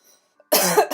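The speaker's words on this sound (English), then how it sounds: "cleared her throat and walked up to check on her." A single short, rough throat clearing, close and fairly loud, lasting about half a second after near silence.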